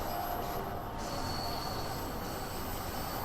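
London Underground Bakerloo line train in the Train Sim World 2 game, wheels squealing with a steady high-pitched metallic screech over a dense, loud rumble of running gear, continuous throughout with no talk.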